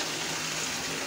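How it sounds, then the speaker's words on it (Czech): A bathtub fills with running water, a steady broadband rush and splash that holds even and close throughout with no pauses. "si napouštím vanu"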